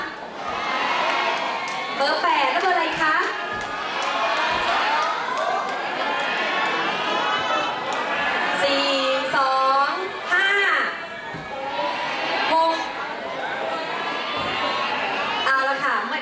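An outdoor crowd at a Thai Noppamas pageant cheers and shouts for the numbered contestants, with children's excited shrieks and chatter rising in bursts, while a voice speaks over a microphone in between.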